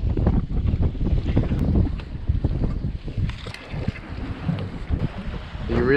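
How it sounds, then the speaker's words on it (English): Strong gusting wind buffets the microphone outdoors on a stormy shore, a loud continuous roar with rumbling low-end bursts throughout. "A bit windy, a bit stormy."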